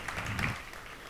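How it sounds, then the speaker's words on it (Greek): Audience applause for the Men of Style team at a live talk, a steady, dense patter of many hands clapping at moderate distance, sustained through the moment without speech. "δώσετε ένα χειροκρότημα στην ομάδα του Men of Style"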